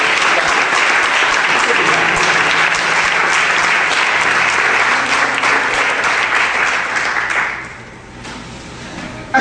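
Church congregation applauding during a sermon, a loud sustained roar of many hands clapping with cheering voices mixed in, holding steady before tapering off near the end.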